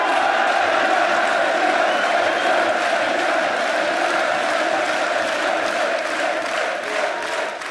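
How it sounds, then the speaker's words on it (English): A crowd at an esports match in the League of Legends group stage roars continuously in a dense, loud wash of cheering and shouting that fills the hall. "Thank you, everyone, for cheering for us."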